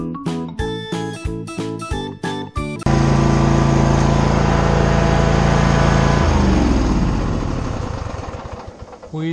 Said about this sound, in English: While I'm sitting on this cutting machine, let's at least mow a path around this